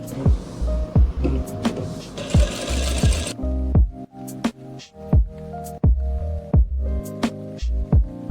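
A sewing machine stitches strip piping onto a round-flared kurti, running in a steady rhythmic chugging throb with a few brief pauses and restarts, close and clear.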